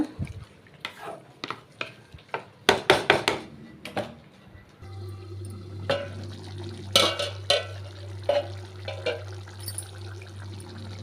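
A spoon stirs and knocks in a pot of bitter gourd kulambu with tamarind water, scattered clinks and scrapes with wet sloshing, close and moderately quiet over a low hum.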